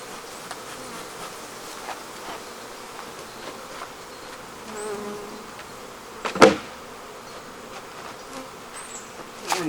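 Honey bees buzzing around a hive, a soft continuous droning hum with a few louder passes as insects fly close, plus a sharp knock partway through.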